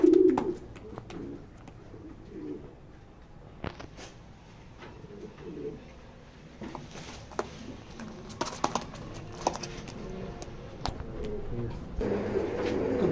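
A pair of checker racing pigeons in a loft give soft, low cooing calls near the start, followed by scattered light scuffs and taps from the birds moving about.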